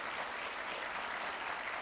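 Children in an audience at a kids' summit clapping together in a dense, even patter, fairly soft and distant, with no voices standing out.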